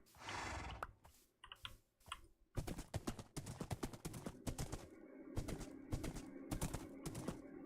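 Horse hooves clip-clopping in Minecraft as the horse is led back to its pen at base: quick, dry, irregular clicks in bursts, fairly quiet, with no talking.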